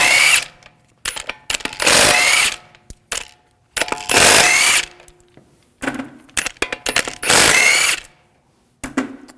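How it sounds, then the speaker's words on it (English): Bursts of a power tool driving a 19mm socket to remove the wheel lug bolts on a 2001-2009 Volvo S60, three long loud whirring runs with clicks and clanks in between, close by and with no talk. "Now I'll take the lug bolts out,"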